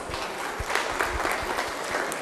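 Applause from a gala dinner audience honouring sponsors, a steady wash of many hands clapping at moderate distance for about two seconds with no talk over it.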